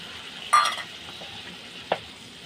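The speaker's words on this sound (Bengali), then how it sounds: "এবার আমি এটা এর মধ্যে দিয়ে দেবো পোস্তটা দিয়ে আমি বেশিক্ষণ কষাবো না একটু জল দিয়ে দেবো" Poppy seed paste thinned with water being added to spices frying in a pan, heard as a close burst of sizzle with stirring, followed by a softer second hiss.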